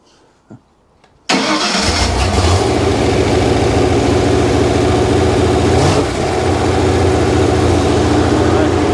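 A car engine cranks and catches on a freshly restored vintage Autolite distributor, then settles into a loud, steady idle that runs unbroken to the end after a short quiet lead-in.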